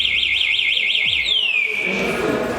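A Dayun FX 300cc adventure motorcycle's alarm sounds loud and close: a rapid warbling siren tone, then a long falling sweep that ends in a harsh sustained buzz.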